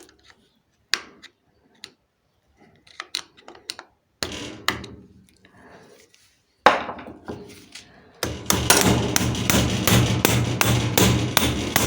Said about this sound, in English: use a used nut to be able to hit it with a hammer